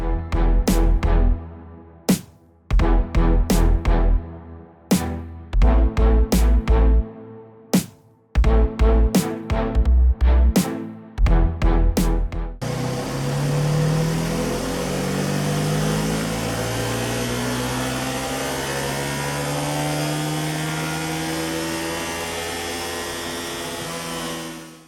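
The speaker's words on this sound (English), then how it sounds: "we're going to get it on the dyno and we're going to see what we can do with it" A Ducati Hypermotard 950 motorcycle on a dyno is revved in sharp, loud repeated bursts with short pauses, then held in one long, rising full-throttle run that fades at the end.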